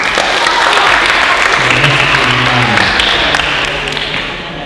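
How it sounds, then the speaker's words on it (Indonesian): An audience at a business talk bursts into loud, dense applause that fills the room and fades slightly toward the end, with a faint voice or tone mixed in underneath. "1976 betul, tepuk tangan ya."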